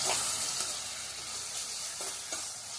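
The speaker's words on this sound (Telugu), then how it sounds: "ఇప్పుడు ఎండు రొయ్యలు వేసుకొని ఎర్రగా వేయించేసుకొని తీసేసుకోవాలండి." Dried shrimp fry in hot oil in a pan, giving a continuous loud crackling sizzle with occasional stirring taps, close and alone.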